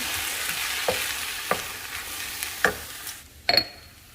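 Tomato and jalapeno hit a hot pan alongside bacon, giving a dense continuous sizzle with several sharp stirring scrapes at irregular intervals, close and loud with no talking.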